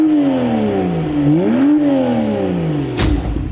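A Porsche 911 with a 3-litre twin-turbo engine revs close by, its pitch dipping and climbing through a couple of throttle blips before a sharp click and a settling rumble, with no voices.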